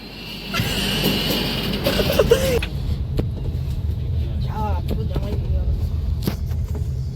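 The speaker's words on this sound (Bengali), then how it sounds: "ট্রেন ছেড়ে দিয়েছে, আমরা ট্রেনে উঠে শুয়েও পড়েছি" A passenger train pulls away and rolls along, heard from inside near the berths as a steady low rumble with clatter, while voices talk over it throughout.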